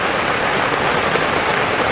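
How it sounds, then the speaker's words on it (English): Pouring rain drums steadily and loudly, a dense unbroken hiss of drops hitting surfaces with no voices. "It is pouring rain."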